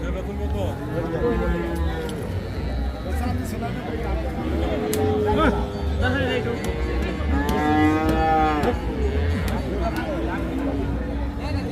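Several crossbred calves moo repeatedly over a busy crowd murmur, with people chatting nearby in a noisy livestock market at Hazratpur.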